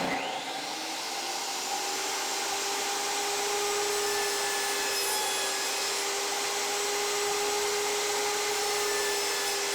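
A table saw runs steadily and loudly the whole time while two plywood pieces, taped together with double-sided tape, are pushed through it together as one continuous cut, with no voices.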